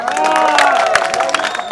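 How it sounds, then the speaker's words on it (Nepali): A comedy show audience breaks into applause and cheering, a dense sustained crowd roar with scattered claps and shouts throughout. "तपाईँको एउटा तालीको साथमा"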